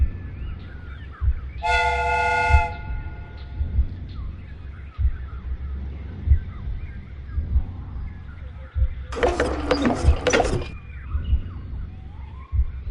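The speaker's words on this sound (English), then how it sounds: "The steam whistle is ready to be used." Steam train whistle on a replica train in a Sherlock Holmes video game, two loud sustained blasts, a clean tonal one near the start and a harsher, noisier one later, over a low rumbling background.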